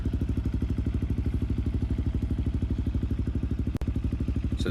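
KTM dirt bike engine in the motocross game MX Bikes drones steadily at a rapid, even pulse, loud and close throughout, with a sharp click near the end.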